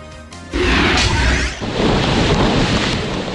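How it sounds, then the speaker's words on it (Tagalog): Loud roaring typhoon wind with crashing waves in Dumaguete City, Philippines, a powerful storm surge rushing and booming close to the microphone. "Ganito kalakas ang hangin at alon sa Dumaguete City, Negros Oriental nung kasagsagan ng Bagyong Pablo"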